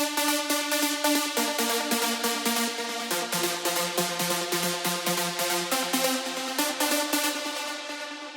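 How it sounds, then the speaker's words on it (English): Low layer of an uplifting trance lead, a Spire saw preset synth playing fast 16th-note patterns, loud and continuous with bright buzzy harmonics, heard alone without any talking. "And the low layer is this one, playing 16ths."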